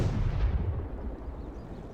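A heavy artillery blast from the Panzer Campaigns Poland 1939 wargame, with a deep booming impact that rumbles and slowly decays over about two seconds, loud and without speech.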